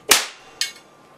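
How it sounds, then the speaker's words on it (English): Two sharp snaps from a capacitor bank discharging through a 1,000-watt high-pressure sodium bulb, the first loud crack followed by a fainter second one about half a second later, each decaying quickly into quiet. "a little snap of a discharge, but no explosion"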